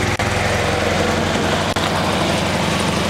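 A 1990 Honda Civic Wagon with a B20 VTEC engine idles close by, its steady, throbbing exhaust note ticking from a leak at the header where a bolt does not seat fully; two brief dropouts break the otherwise constant sound.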